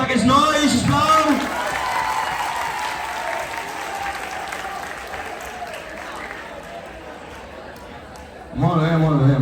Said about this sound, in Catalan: un fort aplaudiment per aquests nois, sisplau